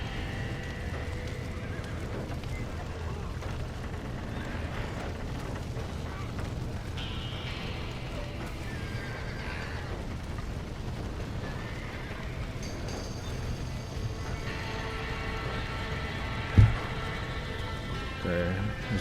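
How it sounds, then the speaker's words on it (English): Horses whinny and hooves clip-clop in the video game Red Dead Redemption on PS5, a steady mid-level game soundscape running throughout with a sharp thump near the end; a person talks in places. "I'm trying to get to the horses right now."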